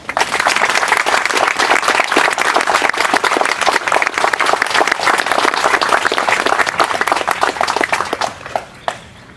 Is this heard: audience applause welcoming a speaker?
yes